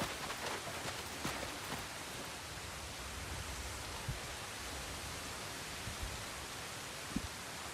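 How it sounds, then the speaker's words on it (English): Rain pours down steadily in the open-world game Crimson Desert, a dense even hiss of falling water with a few faint taps scattered through it. "Oh, it's raining."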